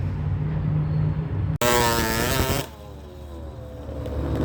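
Small SYX-R 50 motorbike engine buzzing nearby, dropping out briefly, then revving in a rising whine before settling back to a lower hum.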